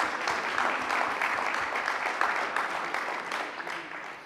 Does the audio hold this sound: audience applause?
yes